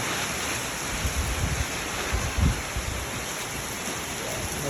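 Strong wind buffets an outdoor microphone during a storm, a continuous loud roar with low thumping gusts throughout.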